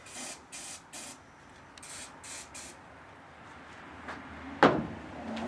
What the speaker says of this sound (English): just take a little WD-40, spray right on it